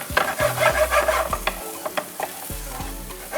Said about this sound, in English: I'm gonna go in with some chopped onions as well.